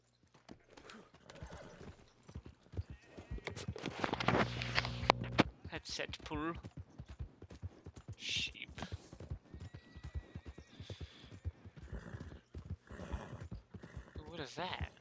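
A horse in Red Dead Redemption 2 whinnies and clip-clops along, hooves thudding in an uneven walking rhythm close by, with a loud neigh partway through while someone talks over it.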